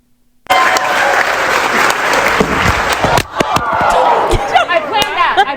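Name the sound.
crowd reacting after comedian falls off stage in Omaha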